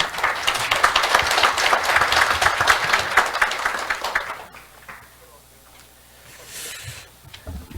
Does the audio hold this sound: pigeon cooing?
no